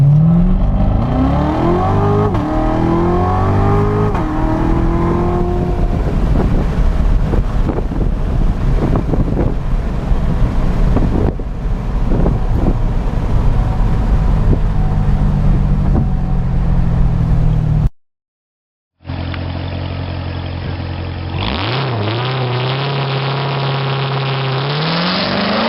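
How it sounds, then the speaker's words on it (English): A 2017 Corvette Z06 launches hard from a standstill under launch control, its engine roaring loud and close with rising revs through the gears, wind buffeting the microphone, then a brief cut before the engine climbs again. "come to a stop, hold the brake real tight, slam the gas to the floor,"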